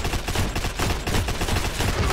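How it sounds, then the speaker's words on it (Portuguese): A gun being hip-fired in Battlefield 1 rattles out a rapid, steady stream of loud shots over roughly two seconds, close and continuous, dominating the clip. "olha o hipfire dessa arma"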